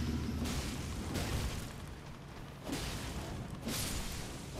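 Heavy swings of a Bloodflame Scythe in Elden Ring, with two loud booming bursts roughly a second apart, then two more a couple of seconds later, all under a low rumbling game background.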